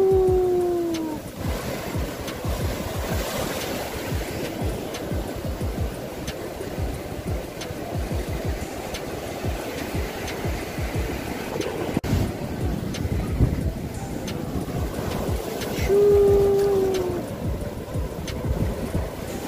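Strong ocean waves surge and break on a beach at sunrise, a steady loud roar of surf with gusting wind across the microphone and no talking.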